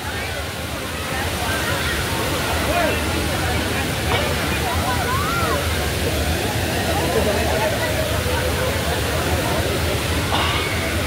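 Taytay Falls in Majayjay, Laguna pours with a constant broadband roar of falling water, steady and fairly loud, while a crowd of people chatter and call out in the background throughout.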